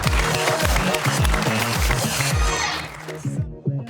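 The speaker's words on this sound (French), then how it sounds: "on peut l'applaudir bien fort" A studio audience on a French TV debate show applauds, a dense wash of clapping running under a loud, pulsing music jingle before both cut off abruptly near the end.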